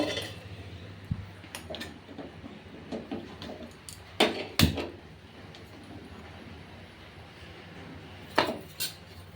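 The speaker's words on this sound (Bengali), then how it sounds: "কড়াইটা বসিয়ে নেব।" A metal wok set down on a gas stove in a home kitchen gives a few sharp clanks over low background hum, with scattered lighter utensil clatter before and after.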